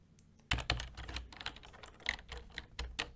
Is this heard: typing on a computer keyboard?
yes